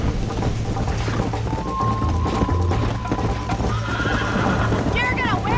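Hooves clip-clop in a fast galloping rhythm under loud game sound in Red Dead Redemption on Xbox Series S, and a horse whinnies near the end.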